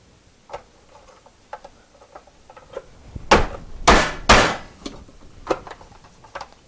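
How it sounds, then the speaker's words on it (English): A hand-pressed onion chopper is pushed down onto onion slices in a few sharp, close clacks and thumps, with lighter taps and clicks scattered before and after. "You just put them on there like that, hit them down, and now you've got chopped onions, all nicely uniform"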